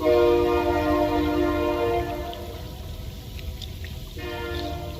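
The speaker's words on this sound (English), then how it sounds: "Listen to that train, y'all." A train passes near a rural home, its horn sounding in loud sustained chords that break off and then resume, over a steady low rumble of rolling cars.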